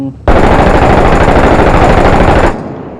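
Loud, close automatic gunfire from the war shooter Six Days in Fallujah erupts as one sustained burst of rapid shots lasting over two seconds, then cuts off and leaves a brief fading tail.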